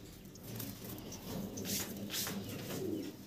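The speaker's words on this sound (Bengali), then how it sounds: "আর্টেঞ্জেল কবুতরগুলো একদম অ্যাক্টিভ আছে প্রত্যেকটা কবুতর দেখতে পারতেছেন খুব ছোটাছুটি করতেছে" Quiet, active Artangel pigeons coo softly and shuffle about nearby, low murmuring calls with light rustling that fade out at the end.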